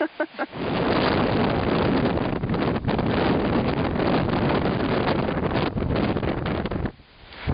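Strong wind on a mountain buffeting the microphone, a loud, continuous roaring rush with gusting surges for several seconds before briefly easing near the end.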